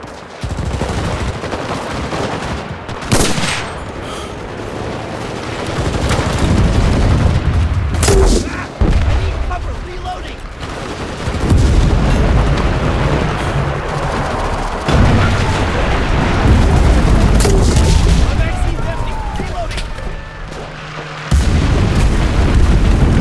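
Artillery barrage and explosions in the World War II shooter Enlisted, during a Normandy village invasion: continuous heavy rumbling battle noise with repeated loud booms, distant and near blasts, and scattered gunfire throughout.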